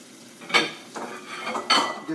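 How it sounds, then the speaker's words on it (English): Dishes and a bowl clatter in a kitchen while a burrito is being made, with two sharp clinks standing out over a quieter rattle of handling between them. "Get a bowl."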